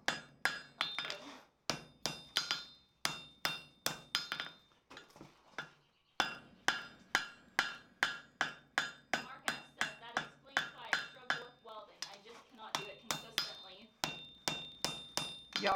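Steady hammer blows ringing on hot steel chain links during forge welding, a rapid series of bright metallic strikes with short pauses between bursts, close and loud.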